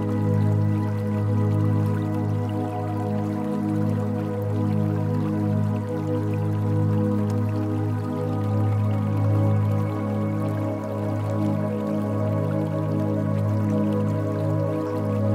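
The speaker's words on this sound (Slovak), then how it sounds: "Vodopád je vysoký 61 metrov." Dalfazer waterfall, 61 metres high, near Lake Achensee: a steady, loud, broadband roar of falling water, continuous and unchanging throughout with no voices.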